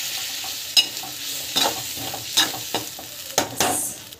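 Bitter gourd sizzles in a hot pan while a utensil scrapes and stirs at irregular intervals, close and fairly loud, with no talking.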